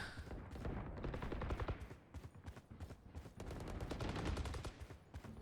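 Dense, continuous gunfire from Valorant, rapid bursts and sustained automatic fire crackling steadily throughout, loud and close with no pauses.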